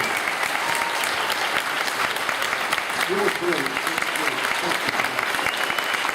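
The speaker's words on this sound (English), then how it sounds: "How about a nice round of applause?" A convention audience applauds actor Patrick Duffy at a nostalgia convention, steady close clapping throughout with a voice speaking briefly over it.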